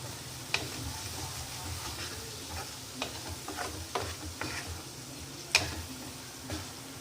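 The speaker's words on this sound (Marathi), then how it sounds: "गरम मसाला, धने पावडर आणि याला छान परतून घ्यायचं" Spices including cumin powder, garam masala and coriander powder are sautéed in a pan for a pointed gourd and potato sabzi. A soft, steady sizzle sits under quiet, irregular ticks and scrapes of stirring.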